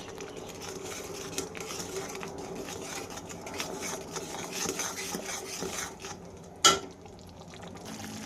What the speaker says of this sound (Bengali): এরপর আমি এখানে দিয়ে দিব হলুদ গুঁড়ো, লঙ্কা গুঁড়ো, লবণ, সব দিয়ে একসঙ্গে মিশিয়ে নেব।